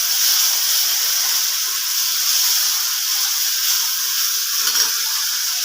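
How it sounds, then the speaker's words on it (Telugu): Onions and green chili paste fry in a pan, giving a steady, close sizzle and hiss without a break, with a brief stir or scrape near the end. "ఆనియన్ ఫ్రై అయిన తర్వాత పచ్చిమిర్చి పేస్ట్ వేసి ఇది కొద్దిగా"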